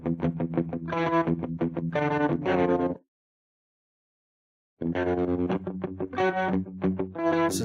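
Distorted electric guitar plays a chugging riff with gritty sustained chords, stops for nearly two seconds of silence, then resumes the same heavy pattern.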